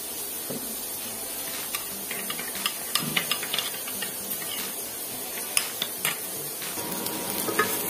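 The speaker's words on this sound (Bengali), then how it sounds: "তো উচ্ছেটা আমি খুব ভালো করে ভেজে নিয়েছি।" Bitter gourd fries in oil in a pan, a steady sizzle with scattered stirring scrapes and light clinks of utensils throughout, close and continuous, with no talking.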